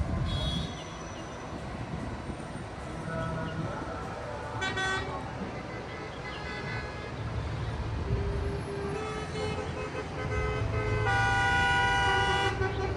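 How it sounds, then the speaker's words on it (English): Constant road traffic along Jerusalem's old city walls during Sukkot, a steady low rumble of passing cars with several short car horn toots, distant to mid-range. "You hear the traffic, it's constant."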